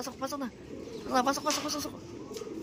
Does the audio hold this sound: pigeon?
yes